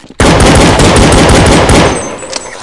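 Gunfire in Counter-Strike 1.6: a rapid, loud burst of automatic fire lasting under two seconds, then it stops abruptly.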